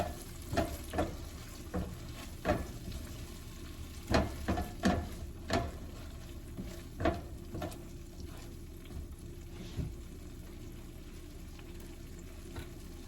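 An egg fries in oil in a wok while pad thai is being made, giving a steady sizzle broken by sharp pops and spatters that come in scattered bursts, with no talking.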